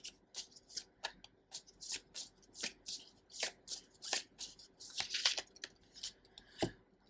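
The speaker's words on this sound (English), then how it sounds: "I'm going to pull out a few more cards to conclude this reading." Tarot cards being shuffled for a reading, a run of crisp riffling and snapping bursts in quick irregular succession, close and fairly quiet with no voices.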